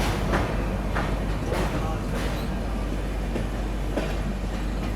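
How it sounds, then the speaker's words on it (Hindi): A Haridwar Express passenger train accelerates past, giving a steady, fairly loud rolling rumble broken by a few periodic rail clacks as it gathers speed. "अभी देखो हरिद्वार एक्सप्रेस तो थोड़ा एक्सेलरेट कर गई, स्पीड पकड़ गई, यहाँ से आगे निकल गई है।"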